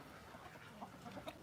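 Soft, faint clucks from Fancy Rooster, an older and somewhat aggressive rooster kept with hens on a small farm, a few short calls over a low steady background.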